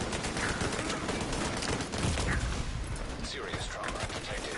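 A constant gunfire barrage in the video game The Division 2, with dense, continuous shooting and explosive noise filling the scene.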